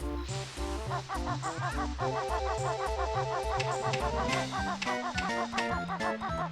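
Cartoonish chicken clucking from the video game Banjo-Kazooie repeats in quick rhythmic bursts over a bouncy game soundtrack, clear and close with no speech.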